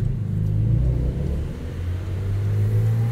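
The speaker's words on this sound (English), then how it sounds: "This sport exhaust has a really nice, low, guttural tone to it." A 2021 Porsche 911 Turbo S with a 3.7-liter twin-turbo flat six and sport exhaust, heard at night as a deep, steady low rumble with a slight rise and fall in revs, close and fairly loud.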